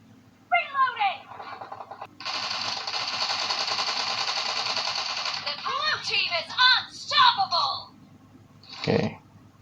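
Rapid automatic gunfire from the video game PUBG played on a Poco M3 Pro 5G phone rattles in a sustained burst, with someone talking before and after it.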